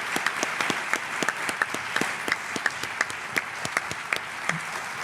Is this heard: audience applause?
yes